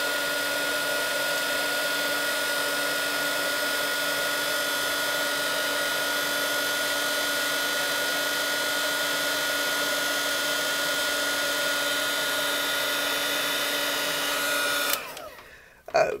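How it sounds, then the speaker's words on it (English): Embossing heat tool melting powder on cardstock, a constant close whirring blow of hot air with a tonal hum that cuts off abruptly near the end. "You don't need to wiggle your heat tool around."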